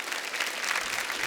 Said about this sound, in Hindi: पहले टीम के लिए जोरदार ताली